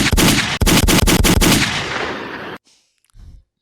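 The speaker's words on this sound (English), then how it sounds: "Where are my gunshots?" Gunshot sound effects ring out as a rapid volley of loud, close bursts in quick succession, then a fading tail, silence, and one last brief low thump.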